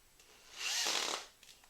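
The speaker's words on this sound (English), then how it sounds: "probably a 2-inch screw, you start it with your drill gun" Cordless drill gun driving a 2-inch screw into a pre-drilled wooden post for a DIY puppet stand: one short, quiet whirring burst of the motor, rising and fading within about a second.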